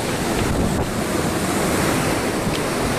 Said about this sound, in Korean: 이야, 파도가 꽤 큰데요?